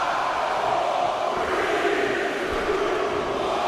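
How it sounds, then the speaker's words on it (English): A sold-out arena crowd at a Cincinnati professional wrestling event roars steadily, a dense, continuous wash of cheering and noise with no breaks. "Fans loving it. Sold out crowd here in Cincinnati."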